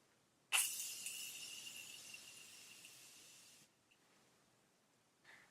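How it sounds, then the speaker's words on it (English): A Morphe Continuous Setting Spray mist is released as one steady, close hiss lasting about three seconds, fading slightly toward the end, with a faint brief puff near the close. "I'm going to go in with the Morphe Continuous Setting Spray and set my face."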